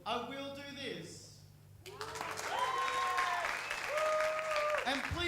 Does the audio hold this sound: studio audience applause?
yes